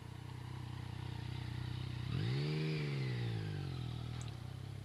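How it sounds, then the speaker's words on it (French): A 2015 Yamaha MT-09 Tracer motorcycle idles low, then its engine revs up smoothly and winds back down, loud and close, with no talking. "On va la voir rouler cette MT-09 Tracer."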